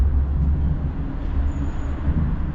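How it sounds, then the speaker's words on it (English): Cars on the A48 rumble overhead as a loud, continuous low roar heard from underneath the road, with no distinct breaks between vehicles. "Can hear the cars going above."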